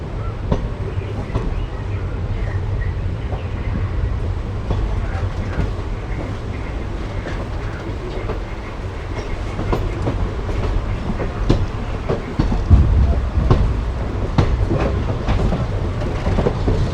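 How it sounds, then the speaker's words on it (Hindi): A passenger train creeps into platform 2 at Mullanpur station at very low speed. Its low rumble and rhythmic wheel clatter run continuously and close, with a few sharper knocks and squeaks along the way. "प्लेटफॉर्म नंबर 2 पे हमारी ट्रेन जा रही है।"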